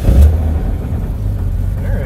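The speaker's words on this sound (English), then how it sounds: "So now I'm curious what happens if we start the vehicle." An AMC Jeep (Renault era) engine, close by, gives a short louder burst at the start, then settles into a steady low rumble.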